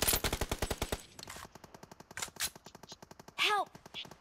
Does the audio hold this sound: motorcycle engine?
no